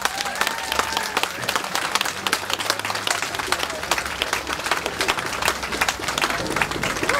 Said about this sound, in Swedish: jag tycker vi ger alla de här nu församlade en riktigt rejäl applåd